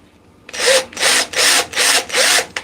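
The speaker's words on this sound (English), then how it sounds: "If we can drill it" A power drill bores through the center of a piece of wood in a woodturning workshop, five loud, close bursts of grinding whir, each lasting about a third of a second with brief gaps between.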